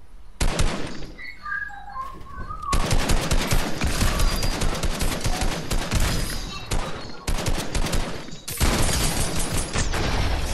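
Gunfire in the Fortnite video game, including a shotgun, rapid sustained automatic bursts and loud shots packed closely together, with brief pauses between volleys.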